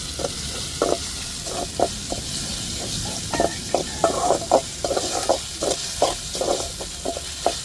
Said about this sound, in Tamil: நல்லா இஞ்சி பூண்டை வதக்கி விட்டுக்கிறோம்